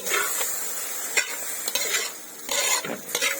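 Arroz valenciana with chicken cubes and seasoning is stirred in a pan, giving soft scraping and shuffling strokes over a low sizzle, with a few light clinks of utensil against metal.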